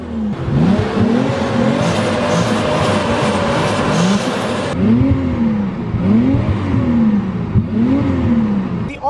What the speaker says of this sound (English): let's go ahead and fire her up, listen to what she sounds like